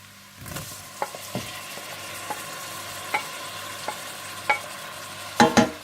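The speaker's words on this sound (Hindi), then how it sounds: "थोड़ा सा भूनने के बाद आप इसमें टमाटर और हरी मिर्चें डाल दें।" Tomatoes and green chillies sizzle in a pan with ginger and garlic for palak paneer, a steady frying hiss broken by a series of sharp spoon scrapes and clinks from stirring.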